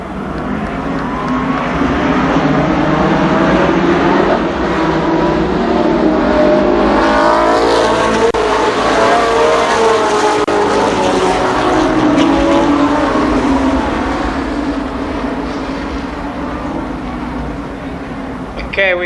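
A pack of IMCA late model race cars roars around Columbus Motor Speedway in a loud, continuous engine drone that swells as the field passes, while an announcer talks over the noise.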